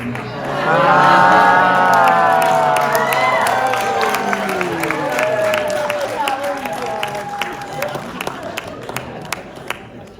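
An audience at the Wild Wild West Con costume contest bursts into loud cheering and whooping, swelling quickly then settling into scattered claps and shouts that trail off near the end.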